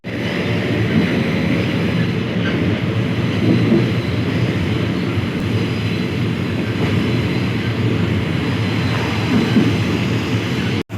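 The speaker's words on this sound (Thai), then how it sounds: "ทุกคนเราขึ้นมาบนรถไฟแล้วนะครับ" A Thai passenger train rumbles steadily from inside a carriage, a loud continuous roar with faint rattling that cuts off abruptly at the end.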